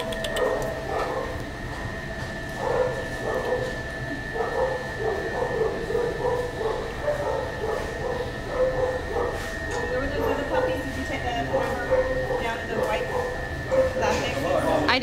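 Dogs barking and yipping from kennels at an animal shelter, repeated rhythmic barks over a steady hum, with people talking nearby.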